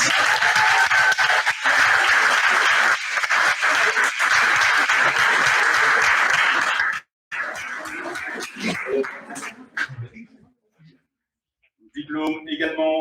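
Audience applause at a diploma ceremony for a specialization in remedial education, a broad steady clapping from a crowd for about seven seconds, then a sudden cut, scattered sounds and a brief bit of speech.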